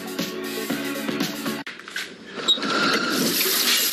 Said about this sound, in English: this faucet may be freaking out